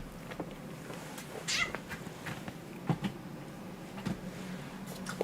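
A pet cat meows and caterwauls in a home, several short cries scattered through a steady background with no one talking.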